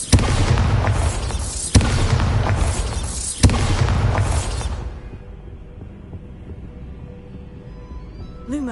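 The Bombarda blasting spell going off in Hogwarts Legacy: three heavy booming explosions in quick succession with sharp onsets, loud and close, then rumbling decay fading to a quieter game ambience.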